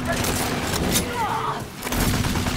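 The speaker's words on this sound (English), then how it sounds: "And I'm using the gun or the assault rifle." Assault rifle fire in the video game Rage 2, a dense, continuous rattle of shots layered with game sounds and a voice talking over it.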